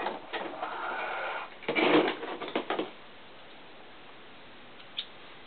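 A sewing machine stitches top-stitch lines on a doll tennis shoe, giving a short burst of rapid mechanical whirring near the start, a louder run around two seconds, then quiet with one faint click.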